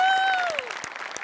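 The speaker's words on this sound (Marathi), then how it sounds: "फक्त टाळ्या वाजवायची गरज आहे" A television studio audience claps briefly after a Marathi stage performance, with a few sharp, separate claps under a sustained tone that fades away.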